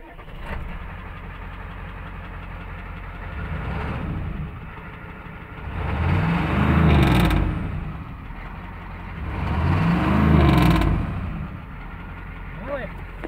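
An IDI diesel truck engine, just started after its glow plugs, runs with a steady, rough, close idle, then surges twice in loud revs before settling back to idle.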